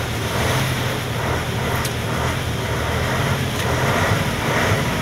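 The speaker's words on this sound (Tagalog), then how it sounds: "Kaya panay ako ng revolusyon." An old, worn truck engine runs steadily at close range with repeated revving while driving toward a port area, its low rumble blending with continuous wind and road noise; no one speaks.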